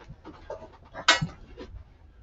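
Dogs pant close by in short, quick breathy bursts, with a brief sharper sound in the middle.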